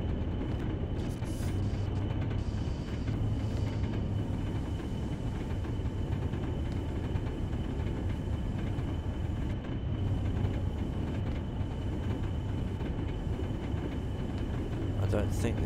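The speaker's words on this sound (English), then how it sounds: "Otherwise, the actual loco sounds are very good." A Class 40 diesel locomotive in the game Train Sim World 2020 rumbles continuously with a steady low engine drone and faint tonal whine, close and fairly loud with no pauses.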